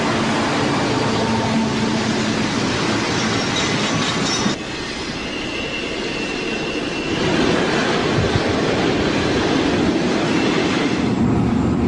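A very long, heavy Southern Pacific freight train with mid-train helper locomotives rolls past, producing a loud continuous rumble with wheel squeal and clickety-clack of cars, in a mountain setting near a highway.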